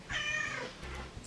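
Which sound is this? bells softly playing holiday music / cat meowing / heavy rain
cat meowing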